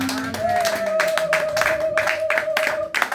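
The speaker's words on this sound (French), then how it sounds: "Acclamons pour le Seigneur." Church congregation clapping in steady rhythmic beats during worship, loud and close, with a sustained sung or called tone and voices over the claps.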